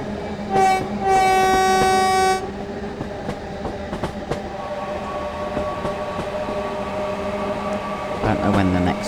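Train horn on a locomotive in the Train Sim World 5 video game, sounding for a level crossing: one long loud steady blast with layered harmonic tones, over low rolling train rumble and rail clatter, followed by a shorter second sound near the end.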